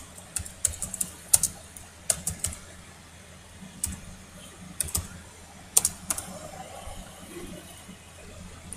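Someone typing on a computer keyboard while entering a screen title in an Android app project, heard as sparse, close key clicks in small bursts separated by pauses, with no talking.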